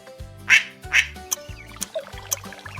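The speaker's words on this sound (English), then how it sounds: "It's a duck." A duck quacks a few times, sharp nasal calls over a steady repeating low thumping beat, with small splashy accents in between.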